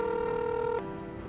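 A telephone line rings back as an outgoing call is placed, giving a steady electronic tone that shifts pitch partway through, heard alone and fairly clear.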